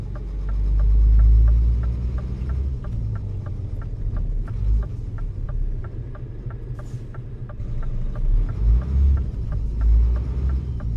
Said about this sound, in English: Very convincing truck sounds, says Omega.